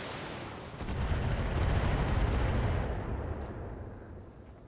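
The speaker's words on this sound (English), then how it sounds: "That's turrets from the base." Base turrets firing in the BattleTech video game, a sustained rumbling barrage of heavy artillery-like booms that swells, holds for a couple of seconds, then fades away.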